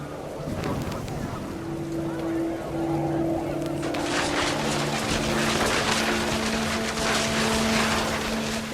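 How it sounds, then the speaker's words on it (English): Panicked geese honk in a video game scene, sustained tonal honks over a steady windy, engine-like rumble that swells and thickens partway through, loud and continuous with no voices. "The wind picked up, and panicked geese appeared and quickly went."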